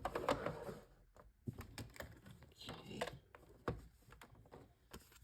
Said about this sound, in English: Bring in my die cutting machine.